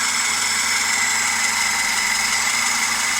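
A VAZ 2107 car engine fitted with an Ozon carburetor and no air filter runs close by at a slightly raised idle, giving a steady, even drone with no speech.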